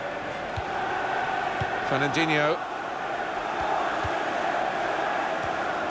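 Football stadium crowd from the video game FIFA 16 murmurs as a steady, distant bed of noise for a Manchester City match, with a commentator speaking over it.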